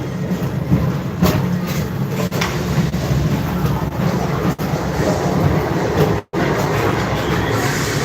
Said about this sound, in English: Your express train keeps on rolling through the future, right by 2 of my favorite spots.